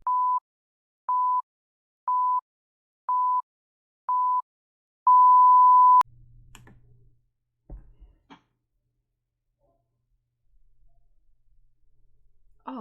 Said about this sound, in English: There's a countdown timer, you can't miss it, of course.